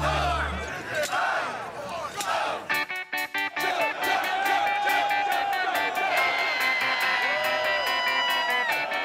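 A rowdy gallery at the Waste Management Phoenix Open golf tournament roars with sustained cheering, whoops and shouted bursts, loud and close, with chopped stuttering swells partway through.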